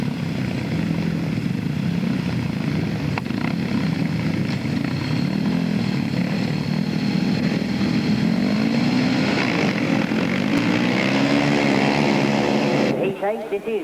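500cc sidecar motorcycles racing on a grasstrack in 1998, a sustained loud roar of engines rising and falling as machines pass, under a public address announcer talking throughout.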